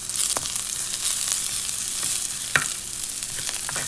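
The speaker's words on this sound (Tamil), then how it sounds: "எல்லாத்தையும் ஒரு கொஞ்சத்துக்கு வதக்க வேணும்" Food sizzles steadily in a hot pan while vegetables and curry leaves are sautéed, with occasional stirring scrapes and a sharper clink partway through; no voices.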